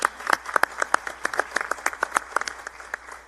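A modest group at a high school business meeting claps for a few seconds. The individual hand claps are distinct and uneven, close and fairly loud, and spaced loosely rather than merging into a full roar.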